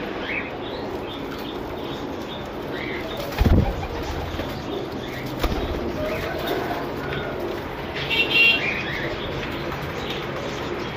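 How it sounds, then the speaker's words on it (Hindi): Flying pigeons coo softly and repeatedly nearby amid a busy background in Lahore, with a couple of louder thumps and flutters of wings. "35 पीस हैं, अच्छे परवाजी कबूतर हैं"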